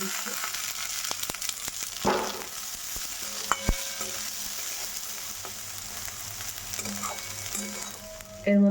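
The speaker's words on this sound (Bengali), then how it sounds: "আগে শুকনো লঙ্কা দিয়ে নি বলে এখন দিয়ে দিচ্ছি মটরশুঁটিগুলো দিয়ে" Green peas and dry red chillies fry in a pan, giving a close, steady sizzle with occasional clinks and scrapes of stirring throughout.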